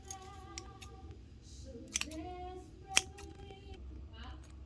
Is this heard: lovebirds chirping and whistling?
no